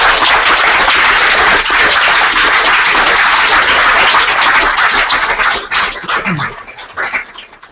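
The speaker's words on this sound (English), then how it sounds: "please give them a token of your appreciation and thanks with a round of applause this evening" A debate audience gives a loud, dense round of applause close by, sustained clapping that thins out and tapers off over the last couple of seconds.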